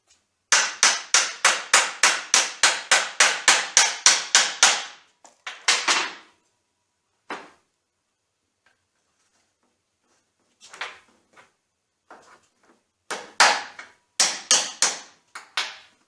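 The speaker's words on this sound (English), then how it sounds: "Once you've pounded the caps into place" Metal caps of a drive shaft U-joint are hammered into place: a rapid run of about a dozen sharp, close, loud blows, then scattered single and paired strikes after pauses.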